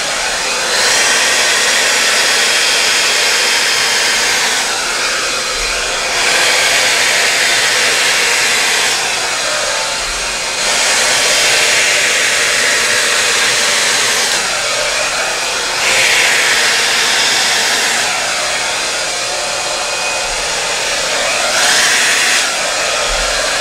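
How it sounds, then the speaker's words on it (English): A hair dryer blows across an acrylic paint pour made with Arteza paint. Its steady, loud whoosh swells and dips in waves as the airflow moves over the surface, with no talking. "I'm going to blow out Arteza first."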